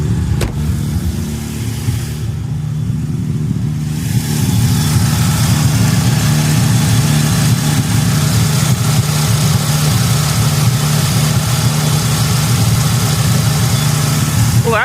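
A Mazda RX7 engine idles steadily and close by, a loud, even rumble holding throughout with a brief dip early on, while a voice talks faintly in the background.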